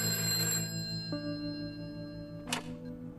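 A telephone rings in the video game A Way Out with a sustained electronic bell tone that shifts pitch partway through, followed by a short sharp click near the end.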